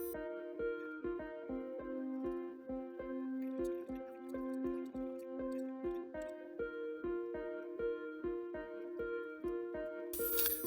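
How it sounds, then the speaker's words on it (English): A spoon stirring a little water into terrain mortar paste for tabletop wargame scenery, giving a regular series of wet clicking, dripping taps in steady rhythm, close and fairly clear. "and we're going to mix it with the spoon"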